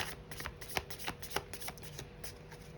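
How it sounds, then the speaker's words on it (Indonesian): Oversized tarot cards being shuffled by hand, a quiet, steady run of soft riffling slaps and flicks repeating every few tenths of a second, close and alone. "Aku pakai tarot yang rada besar, jadi mungkin rada susah keluar lompat-lompat kayak kartu biasanya aku shuffle"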